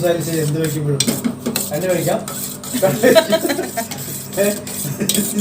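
A spoon stirs curry in a metal pot, scraping and clinking against the sides in a steady close-up rhythm, with faint voices underneath.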